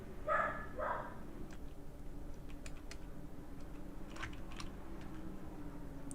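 A dog gives two quick barks near the start, fairly close, then falls silent while faint clicks and taps continue underneath.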